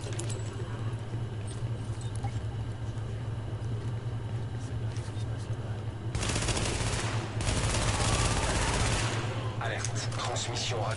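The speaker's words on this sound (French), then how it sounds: "On a entendu des coups de feu qui venaient de la station du dessus." Bursts of automatic gunfire from a distant upper metro station in The Division, rattling over a steady low hum of game ambience, loudest in the middle stretch and then tapering to scattered shots.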